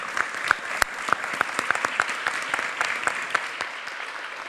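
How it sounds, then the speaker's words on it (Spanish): Audience applause for the guests at the close of a plenary session fills the room, steady and even for several seconds, with a few sharp nearby claps standing out above the rest. "Un fuerte aplauso para los invitados."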